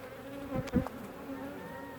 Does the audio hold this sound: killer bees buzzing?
yes